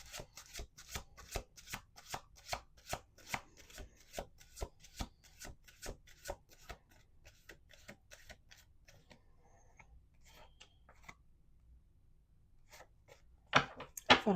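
A tarot deck shuffled by hand, a long series of evenly spaced close riffling snaps that slow and soften toward the end, with a few louder handling knocks at the finish.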